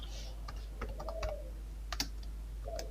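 Keys tapped on a computer keyboard while writing C code, a quiet scattering of soft clicks in short bursts with no voices.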